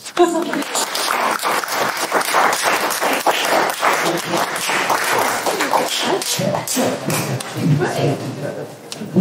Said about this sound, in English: we can give ourselves a round of applause